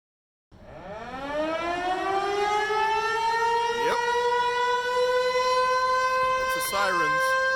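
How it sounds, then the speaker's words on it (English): A civil defense siren winds up from silence and holds a loud, steady wailing tone for several seconds, with a brief sweeping wobble partway through. "Sirens."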